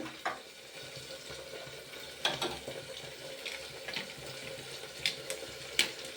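Papad fries in hot oil with a steady, close crackling sizzle and scattered sharper pops throughout, and no voices.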